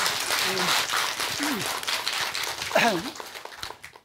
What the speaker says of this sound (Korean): 여러분 큰 박수 다시 한번 쳐줘야 돼.